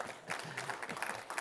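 Audience applause at a tech talk on Azure identity governance, a short burst of scattered clapping from a crowd, fairly faint and brief.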